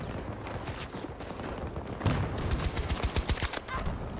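Weapon fire in the video game Battlefield 2042: a busy, noisy scene that breaks into a close, rapid automatic burst halfway through, with dense irregular shots and distant fire behind them.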